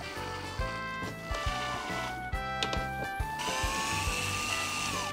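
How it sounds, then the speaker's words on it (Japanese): A power drill bores a mounting hole for a USB cooling fan inside an NV350 Caravan van, with several short whirring bursts starting and stopping, then a longer steady run, close by and with no talking. "だいたい位置があったらこのまま穴を開けたいと思います"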